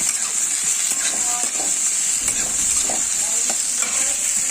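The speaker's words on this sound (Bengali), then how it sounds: "পেঁয়াজ আর একটুখানি টমেটো যে কেটে রেখেছিলাম সেগুলো দিয়ে দিলাম ভালো করে একটু ভেজে নেব" Potato, onion and tomato fry in a pan with a loud, steady sizzle, while a spoon scrapes and stirs through the pieces in irregular strokes.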